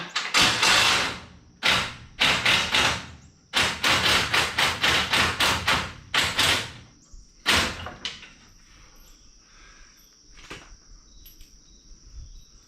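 An impact wrench removes hardware-store bolts, sounding in loud clustered bursts of rapid hammering, several short runs and one long stuttering stretch, then quieter pauses with a few faint clanks.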